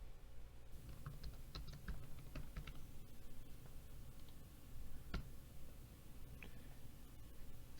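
Faint typing on a computer keyboard as a meeting title is entered, a light irregular patter of key clicks close to the mic under a steady background hum, with no talking.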